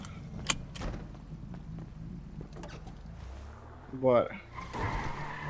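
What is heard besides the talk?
car driving and skidding in video game GTA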